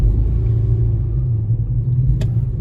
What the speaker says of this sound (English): and just hit the gas.